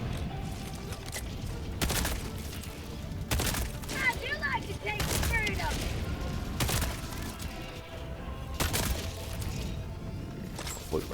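Repeated sharp gunshot bursts crack out in Helldivers 2 against Illuminate enemies, spaced every second or two, fairly faint amid game effects and a player's speech.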